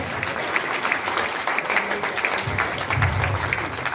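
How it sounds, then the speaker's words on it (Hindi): Audience applause at a Benefit Plus business meeting in Ludhiana, a steady wash of many hands clapping at moderate loudness that continues for the whole stretch, with no talking. "जो मेरी मीटिंग में ताली नहीं बजाता है उसे घर घर जाकर के बजानी पड़ेगी साहब"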